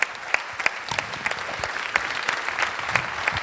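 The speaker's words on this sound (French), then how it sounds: "d'abord que le public t'applaudisse" A live audience breaks into steady applause, a dense patter of many hands with a few sharper close claps standing out, moderately loud and continuous without talking.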